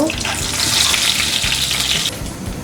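Ghee and browned fried onions sizzle steadily in a pot for beef tehari, a bright continuous crackle with some stirring underneath that eases off slightly near the end.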